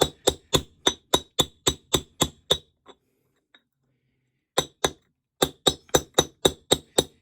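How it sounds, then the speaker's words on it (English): Metal strikes of a hammer on a socket driving a wheel bearing into a vintage motorcycle hub, sharp ringing clinks in a steady rapid series, a pause with a couple of lighter taps, then another quick run of blows, close and loud. "we're going to be really careful, okay? Really careful to only hit the outer side of this bearing."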